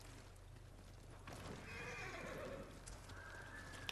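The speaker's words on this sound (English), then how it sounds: "this is a horse. Oh, I ain't gonna kill the horse." A horse in the samurai video game Ghost of Tsushima gives a clear, fairly loud whinny that rises and trails off, with clip-clopping hooves and background game ambience beneath it.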